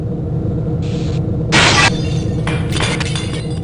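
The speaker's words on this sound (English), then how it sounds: "The glass is cracked." Glass shatters in the video game Gunman Chronicles, a loud, bright crash followed by a second, rougher burst of breaking shards over a steady low game hum.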